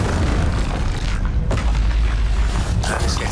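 Loud fiery spell blast booming through a Hogwarts Legacy battle, a dense rumbling burst with a sharp crack near the middle, sustained throughout without a break.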